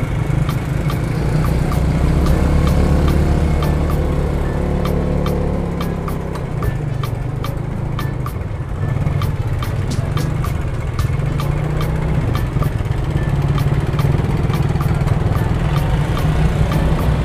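Stop-and-go traffic jam on a residential road in Balikpapan, with a continuous low rumble of idling car and motorcycle engines close by, steady throughout with small surges, no talking.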